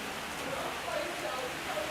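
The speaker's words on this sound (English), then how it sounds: "The rain really is driving." Heavy driving rain pours steadily over an outdoor football match between Lil Haiti and a St. Lucia Select XI, a dense broadband hiss under faint, indistinct voices.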